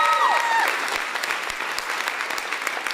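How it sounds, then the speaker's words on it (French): A studio audience bursts into loud, sustained applause on a talk show, with a brief whistle-like tone at the start, and the clapping continues steadily throughout. "on peut l'applaudir"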